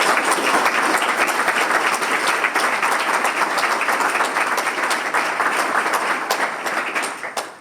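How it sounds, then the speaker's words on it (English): A gathering of men breaks into loud, sustained applause for a program manager, thick crowd clapping close and steady for several seconds before tapering off at the end. "Let's give him a round of applause"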